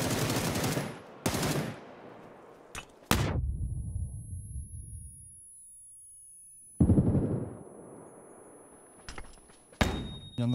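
Gunfire in the battle royale game PUBG on the Erangel map comes as several loud, sharp bursts of automatic shots separated by quiet gaps, with a ringing tone lingering in places.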